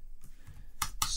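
A few sharp computer keyboard keystrokes, two loud clicks close together near the end after softer taps, from typing commands into a Raspberry Pi over SSH.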